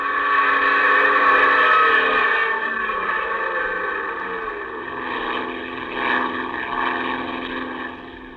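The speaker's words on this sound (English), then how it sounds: "The plane twists wildly. You pull open the throttle." Plane engine sound effect from a radio drama, a loud droning roar with a steady rising and falling whine that fades slightly toward the end, with no voices.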